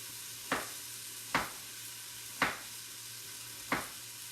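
Onions frying in a pan give a faint, steady hiss. Four crisp, evenly spaced taps of a utensil against the pan stand out clearly over it, and no one speaks.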